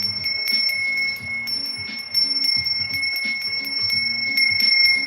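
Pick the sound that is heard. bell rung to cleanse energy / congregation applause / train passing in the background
bell rung to cleanse energy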